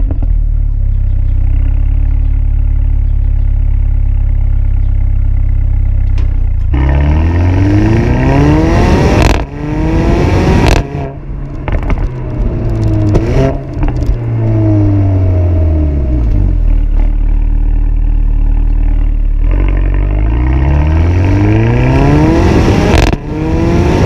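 A Mercedes A45 AMG with all-wheel drive is driven hard: a loud, close engine drone climbs repeatedly through the gears, with rising revs, sharp shifts and a deep rumble that fills the whole stretch with no talk.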